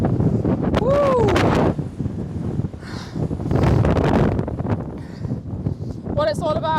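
Wind gusts roar across steep Hallin Fell, loud buffeting surges that rise and ease, with voices and short exclamations heard among them.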